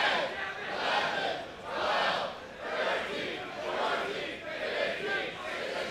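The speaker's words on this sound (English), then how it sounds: "You hear the crowd here." A wrestling crowd at a TNA Rebellion 2023 event roars and chants in rolling waves, a distant, reverberant arena sound that swells and fades several times.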